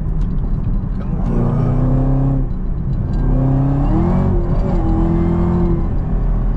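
A Camaro ZL1 engine revs hard and climbs in pitch through two long pulls, loud and close, with a steady rumble underneath and a voice briefly over it.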